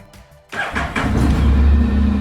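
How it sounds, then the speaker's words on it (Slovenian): A Honda hybrid scooter, a cross between motorcycle and scooter, is push-button started: a short quiet pause, then the engine catches abruptly and settles into a steady, loud, close idle with a low hum. "bomo pržgali tale motor"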